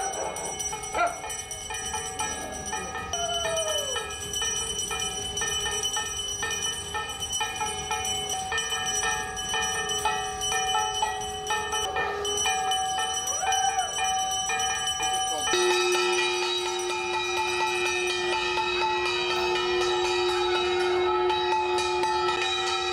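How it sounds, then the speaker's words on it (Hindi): Bells ringing and a conch shell sounded by the Tripura Chief Minister's family at home, a long continuous blend of tones with a strong steady conch-like note in the second half, plus a dog barking and yelping in the background. "उन्होंने अपनी मां और परिवार के दूसरे सदस्यों के साथ घंटी और शंख बजाकर कोरोना के खिलाफ लड़ाई में जुटे लोगों का आभार व्यक्त किया"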